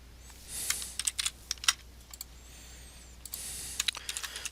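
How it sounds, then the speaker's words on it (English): Rapid keystrokes on a computer keyboard, irregular clicks and taps clustered in bursts of typing, close and clear with no one talking. "Type in some text."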